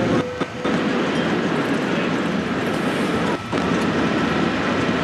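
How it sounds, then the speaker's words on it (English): A TGV high-speed train coasts with traction power cut during its 574.8 km/h record run, a steady, loud rushing roar and faint clatter along the rails, briefly dipping twice; no one speaks. "It's now time to cut the power to the traction motors and the train will slow down gradually."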